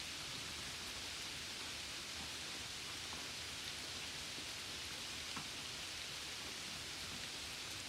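Steady rain falls in an even, hissing wash with faint scattered drops, continuous and uniform throughout, with no voices over it.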